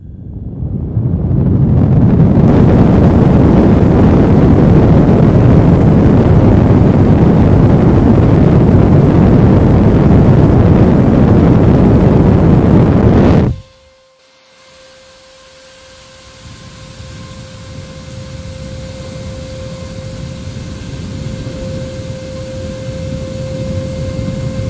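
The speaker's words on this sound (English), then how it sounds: "these being server fans and how fast they spin, they're really not that loud" Server fans on a 10-GPU mining frame roar with a loud, steady broadband whoosh, cut off abruptly midway and replaced by a quieter hum with a steady high whine as the fans spin back up.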